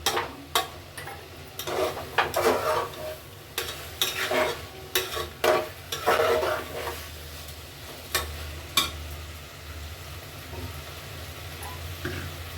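Rice with carrots and peas is stir-fried in a pan, with irregular scraping and stirring strokes of a spatula over a soft, steady sizzle, close and fairly quiet with no talking.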